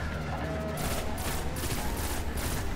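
Rapid, dense gunfire from a Destiny match, a sustained crackling volley of shots that runs steadily through the whole moment at close range.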